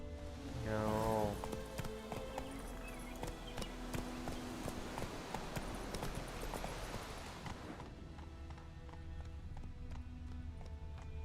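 Hooves of a horse clip-clop at a steady gallop in The Witcher 3 video game, close and continuous over dense game ambience, with a brief high whinny-like sweep near the start.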